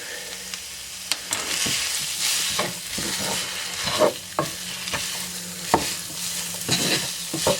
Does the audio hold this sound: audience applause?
no